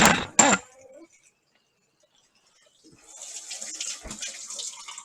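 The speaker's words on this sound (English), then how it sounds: "I'm going to make some more filtered water here." Brief clatter at first, then after a quiet pause tap water starts running steadily into a sink or container to make filtered water in a home kitchen.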